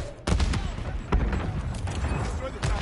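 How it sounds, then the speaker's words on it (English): Gunfire in the video game Call of Duty: Modern Warfare 3, several sharp loud bursts and cracks over a busy mechanical background, alongside speech. "That sounds like a gunshot."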